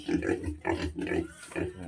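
Pigs on a poultry farm oink and grunt in a rhythmic series of close, fairly loud snorts, with no talk.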